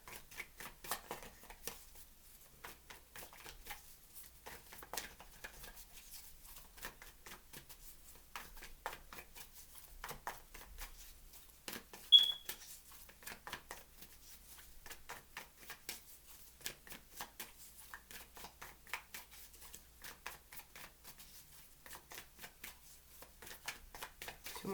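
Tarot cards being shuffled by hand in a quiet room, a faint, continuous crisp riffling and shuffling with soft flicks and taps, close to the microphone.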